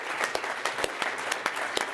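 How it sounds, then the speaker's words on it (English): Conference audience applauding together, a dense wash of many hands with a few sharp close claps standing out, steady throughout. "we should give him a round of applause"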